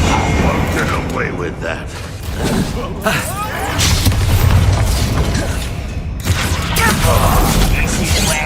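Spell impacts and explosions in the video game Hogwarts Legacy: a series of booming bursts and crackling magical blasts spread across several seconds, while a man calls out spell names and a character speaks over the fighting.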